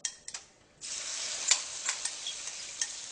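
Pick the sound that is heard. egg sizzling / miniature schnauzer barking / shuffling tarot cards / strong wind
egg sizzling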